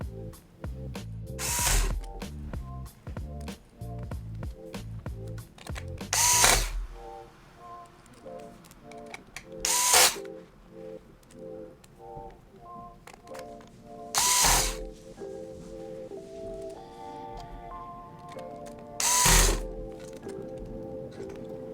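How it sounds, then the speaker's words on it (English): A small screwdriver drives screws back into an Acer Chromebook C733 motherboard and hinge, producing close ratcheting clicks and rattles with several louder sharp knocks, no talking. "So now you can put the screws back into the motherboard, including the screws that go into the hinge that is placed over top the motherboard."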